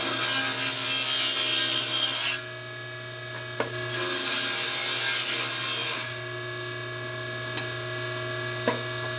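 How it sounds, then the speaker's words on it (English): Seasoned construction lumber being sawn into wooden drawer tracks for a deep shop cabinet: two long, steady stretches of rasping cutting over a constant low hum, separated by a short pause, with a few faint knocks near the end. "I'm just cutting these from well-seasoned construction lumber"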